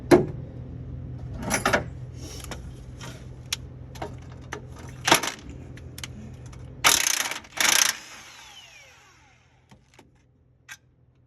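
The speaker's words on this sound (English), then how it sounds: "you have plenty of room to get a wrench in there and hook it on to your the nut on the bottom" A wrench working the nut on a 5.3 LS engine mount: scattered ratcheting clicks and metallic clacks at irregular intervals, with a few louder bursts, over a low steady hum that drops away near the end.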